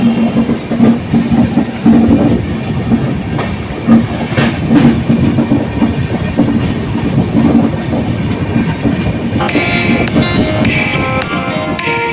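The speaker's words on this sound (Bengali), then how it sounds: "ধীরে ধীরে এগিয়ে চলেছে ট্রেন।" A passenger train on the Howrah to Mumbai route, passing Champa Junction in Chhattisgarh, rolls steadily along the rails with a continuous rumble and rhythmic clickety-clack, while brief metallic squeals rise near the end.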